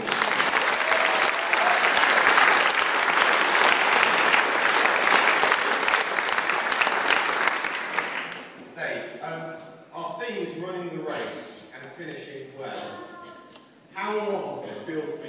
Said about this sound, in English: So can you just please give a round of applause?